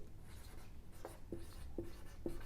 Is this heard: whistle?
no